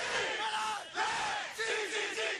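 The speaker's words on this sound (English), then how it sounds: "In one case, a cheer." A crowd cheers and shouts for Chilean miners rescued after 69 days underground, a loud sustained roar of many voices rising and swelling in waves, with no speech.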